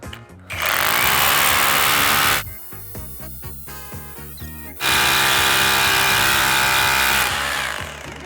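A Dnipro-M DHR 201BC compact rotary hammer drills holes in two loud, harsh bursts of hammering and motor roar, with a quieter stretch of lower-pitched motor whirring between them, then trails off at the end.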